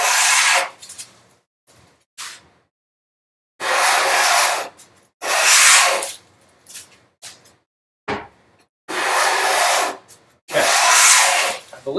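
A hand plane shaving wood while match planing boards for a bookcase, with long rasping strokes repeated about six times and short gaps between, loud and close with no talk.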